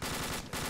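Automatic gunfire in the military game ArmA II, a loud, close, rapid stream of shots with a brief break before the firing resumes.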